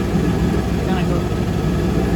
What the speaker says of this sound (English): RPMs are idling up and down